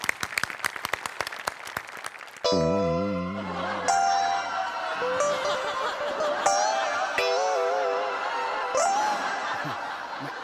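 A studio audience at a televised comedy show claps in a quick burst for about two seconds, then the applause gives way to music and laughter.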